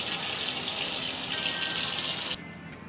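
Water runs steadily from a tap at a sink while a face is washed, a close, even rushing that cuts off abruptly near the end, leaving a quiet room.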